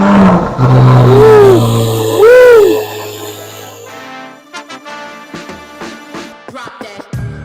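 A 2024 Chevrolet Corvette Z06 sports car engine revs loud and close, its pitch sweeping up and down in two sharp bursts before dropping to a rough, crackling idle with scattered pops.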